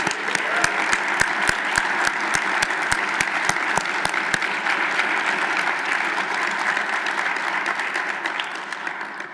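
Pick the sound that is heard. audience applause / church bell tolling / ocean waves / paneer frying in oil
audience applause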